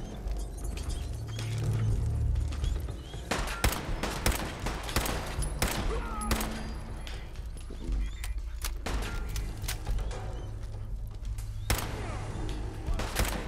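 Rapid bursts of gunfire aimed at an auto turret in Fallout 4, with clustered shots and heavier thuds repeating throughout, loud and close.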